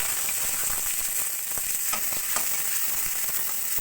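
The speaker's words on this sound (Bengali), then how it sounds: "পেঁয়াজটা আমি লাল করে ভেজে নেব" Chopped onion fries in oil in a kadai-style wok, giving a continuous dense sizzle with small crackles and faint stirring, steady and fairly close.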